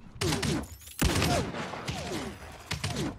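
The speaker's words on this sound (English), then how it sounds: "Who the fuck's shooting me?" Rapid gunfire bursts from the video game Realm Royale crack in several quick clusters, loud and close, with a muffled voice faintly beneath the shots.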